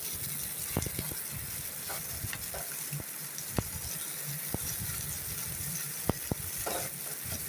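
Cabbage fries in a pan for a South Indian poriyal, giving off a loud, continuous close-up sizzle. Scattered sharp clicks of stirring punctuate it throughout.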